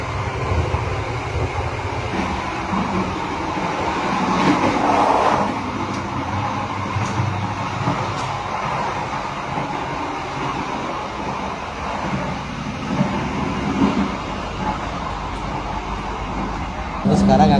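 Steady low rumble and rattle inside the dining car of the Argo Bromo Anggrek passenger train while moving, continuous and even, with a few faint clanks and voices in the background.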